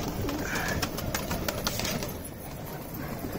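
Pigeons coo softly in a continuous murmur against a dense, noisy background, with no talking.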